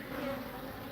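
Honey bees buzz close by at a hive in an out yard, a continuous soft humming drone over one second.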